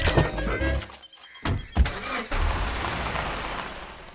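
A car starts up with a short engine crank and rev, then pulls away, its engine settling into a steady rumble with road noise fading slightly; no talking.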